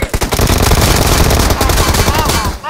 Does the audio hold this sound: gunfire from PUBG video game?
yes